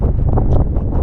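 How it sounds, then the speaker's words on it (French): Strong gusty wind buffets the microphone at a mountain pass in the Beaufortain area of Savoie, a loud continuous rumbling roar with no voices. "Comme souvent au niveau des cols, il y a du vent."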